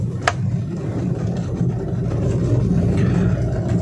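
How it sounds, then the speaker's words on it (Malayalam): A car pulls away slowly in second gear on a road, a steady low engine hum and tyre rumble running continuously, with a brief sharp click near the start. "സെക്കൻഡ് ഗിയർ ആക്കിയിട്ട് പതിയെ പോകുന്നു."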